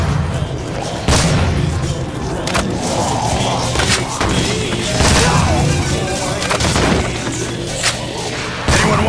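Zombies-mode gunfire in Call of Duty: World at War rattles in loud, repeated heavy bursts and thuds, dense and close, with booming hits spaced throughout.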